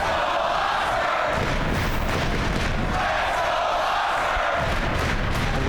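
Arena crowd at a Mosconi Cup pool match roars and cheers after a winning 9-ball, a loud sustained wall of shouting and clapping that surges and swells throughout.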